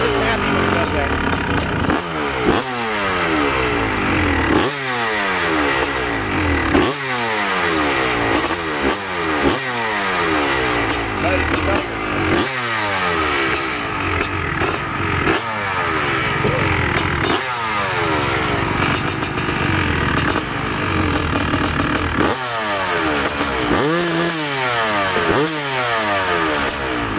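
A 2002 Honda CR500AF two-stroke motocross bike revs hard, its engine climbing in repeated loud, rising sweeps through the gears, dropping off between pulls, close to the microphone with voices talking underneath.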